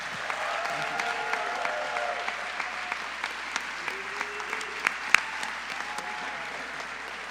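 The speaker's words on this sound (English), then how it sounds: "Can we get one more round of applause for our prize winners as they leave the stage?" Audience applause for prize winners leaving the stage at the Equator Prize 2017 ceremony, a moderate, continuous patter of clapping with occasional sharper individual claps and faint cheering voices.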